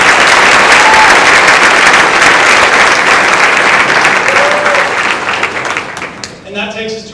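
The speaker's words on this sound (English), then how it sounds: "let's give Sydney a round of applause" Audience applause at a school district board of trustees meeting, a sustained round of clapping that fades out toward the end.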